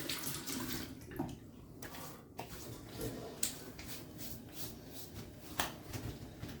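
Water runs from a tap in a steady rush with splashes and clatter of hands or objects in a sink, fairly quiet and close.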